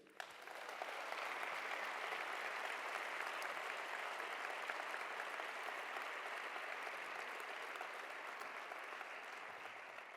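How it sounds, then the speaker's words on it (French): A large audience claps steadily and densely for about ten seconds, a broad wash of applause with no voices breaking through. "Vous pouvez les applaudir."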